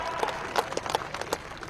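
Scattered clapping rises from a political rally crowd in Titabor, Jorhat, Assam. The applause is brief and faint, with a few sharp claps heard at a distance.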